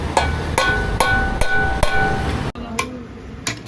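Metal hammer blows ring out while a bend pipe is fitted on a Royal Enfield Bullet BS6 motorcycle, about eight sharp close strikes at an irregular pace with a faint metallic ring, no talk.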